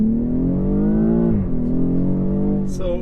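2021 BMW X6 in Sport Plus mode pulling away at full throttle, its engine rising in a loud, steady turbocharged drone that climbs in pitch, drops briefly at a shift and climbs again, heard close from inside the car.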